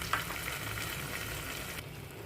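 Green chillies sizzle while being sautéed in a pan for Hyderabadi paneer curry, a steady close frying hiss with light crackles that drops off near the end.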